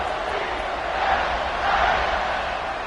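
Football stadium crowd roaring and cheering during a kickoff, a broad sustained swell of many voices rising and falling, heard at a distance.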